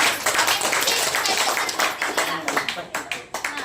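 During stroke-recovery therapy, a patient claps their hands in a quick run of sharp, close claps that grow denser toward the end, with talking over them.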